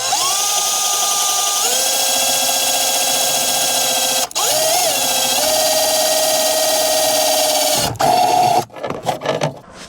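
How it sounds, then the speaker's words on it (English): Power drill boring a hole through a car's metal body panel while installing a MAF-T sensor on a turbocharged car; a steady loud whine that shifts pitch a few times, briefly dips near the middle, then stops and gives way to scattered clatter at the end. "Alright, so I got my hole drilled."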